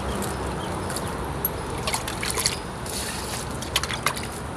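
Liquid plant treatment trickles and splashes onto bullet chili plants in a garden, a soft steady dribble with a few small spatters near the end, heard close and with no talking.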